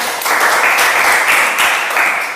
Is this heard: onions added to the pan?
no